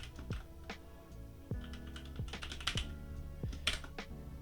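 Keys clack on a computer keyboard while a name is typed, a quick irregular run of close, crisp taps with no talk.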